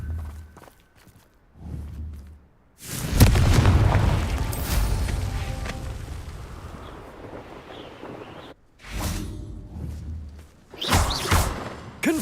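A Confringo explosion spell in the Hogwarts Legacy video game: a heavy booming blast with a rumbling tail that lingers several seconds, surrounded by shorter thumps and whooshes, loud and close.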